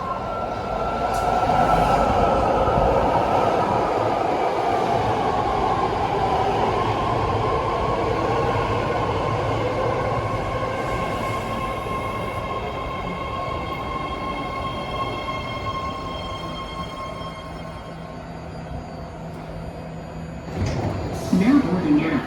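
A nine-car, three-door BART Blue Line train bound for Dublin/Pleasanton rolls into the platform with a loud, steady rumble and wheel whine that slowly eases off, ending with a brief clatter of doors or brakes.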